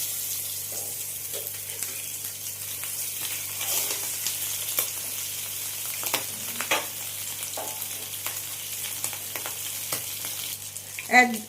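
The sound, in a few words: surmai fish pieces frying in a pan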